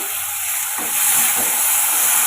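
Onions, green chillies, curry leaves and tomato sautéing in a hot pan give a steady, close sizzling hiss that swells slightly partway through, with no talking.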